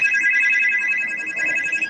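A phone ringtone plays loudly and continuously, a bright warbling electronic tone with a quick pulsing pattern, close by, with faint background noise.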